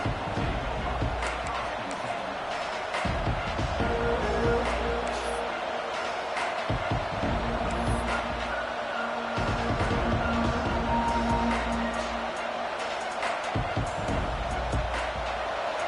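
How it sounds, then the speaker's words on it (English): Football stadium crowd roaring during a game, a dense, sustained wall of cheering and noise filling the whole stretch with swells and scattered sharp bursts. "This crowd full throat, splitting the eardrums"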